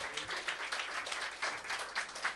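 A church congregation at a worship centre in Tokyo claps together in praise, a dense, continuous patter of many hands at moderate volume with no voices over it.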